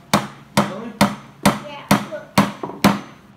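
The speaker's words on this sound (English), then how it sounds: "Choke up on the hammer, sir." A hammer drives nails into wood while building a pencil box, making seven sharp, close, evenly spaced blows about half a second apart, with one lighter tap slipped in near the end.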